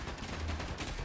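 Rapid gunfire in the Space Engineers game crackles in a dense, continuous burst of quick shots, fairly loud over a short stretch with no voice.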